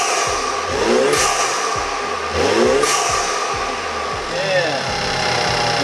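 A 2016 tenth-generation Honda Civic fitted with an MST Performance intake revs repeatedly, engine swelling and falling in several surges with rising whooshing intake tones, heard up close under people talking.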